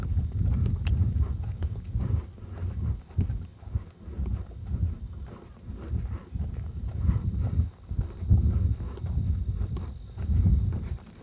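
Horse hooves working in place during a dressage piaffe, a steady run of soft, muffled low thuds in a close, even rhythm over a low rumble, with no voices.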